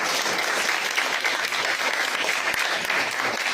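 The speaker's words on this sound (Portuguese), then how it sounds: "Nós temos uma salva de palmas ao Senhor" A church congregation applauds in praise to the Lord during a Portuguese-language gospel study service, a steady, dense wash of many hands clapping that holds at even loudness throughout, with no voices standing out.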